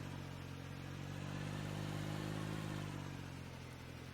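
John Deere 1025R compact tractor engine in the Farming Simulator 19 video game, a steady mid-pitched drone that holds an even level throughout, with no voices.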